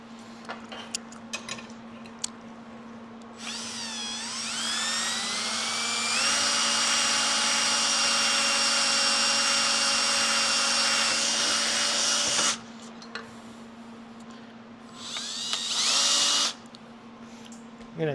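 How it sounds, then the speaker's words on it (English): A power drill whirs steadily for several seconds while drilling out a hole by hand during a Husqvarna K971 repair, its pitch rising as it spins up, then stops; a second shorter burst follows, close and loud. "Now we'll just drill it out by hand."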